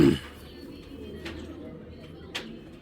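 A large brown-necked female pigeon coos softly in a couple of brief, faint calls. A short louder sound comes at the start, then a low background murmur.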